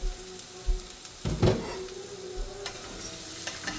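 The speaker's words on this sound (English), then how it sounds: "So my oil is hot. I'm going to add my shallots." Shallots dropped into hot oil for a dasheen bush dish, a close crackling sizzle with a sharp burst as they hit the pan, then steady frying and light clatter.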